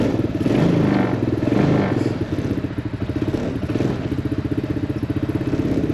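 HammerHead 250cc go-kart engine running near, a loud rough idle with rapid rhythmic chugging pulses and brief throttle swells early on, with a faint voice briefly over it.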